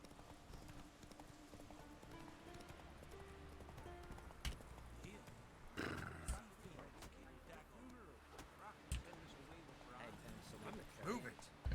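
Roach the horse's hoofbeats clip-clop steadily in The Witcher 3, a rhythmic trotting with a few sharper knocks and a brief whinny-like sound, mixed with game ambience and voices.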